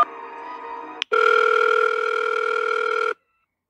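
Telephone dialing in the video game An Elmwood Trail: a steady electronic tone, then a brief click and a louder, sustained tone lasting about two seconds, followed by silence.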